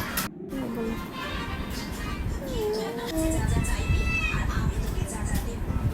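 Pigeons coo and call in short tonal phrases at close range, with children's voices and chatter running underneath throughout.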